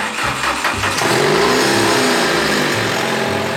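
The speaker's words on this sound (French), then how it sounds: "Je vais vous le démarrer, allez. Vous allez voir, ça part en roulement de tracteur." A Saab 900 Turbo petrol engine cranks and fires, then revs loudly and steadily up close, the rough engine note filling the whole few seconds with no talk.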